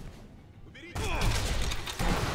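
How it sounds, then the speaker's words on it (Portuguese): Grenade explosion in the video game Sniper Elite V2, a sudden loud blast with a rumbling tail and a second boom near the end, after a quieter stretch of game ambience. "Granada."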